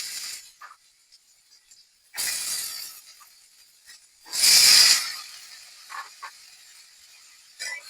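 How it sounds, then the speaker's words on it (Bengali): Sliced bottle gourd going into a pan of fried onions, with two loud bursts of sizzling hiss and a few fainter crackles and scrapes in between. "এখন আমি দিয়ে দিব কেটে রাখা কুমড়ো গুলো"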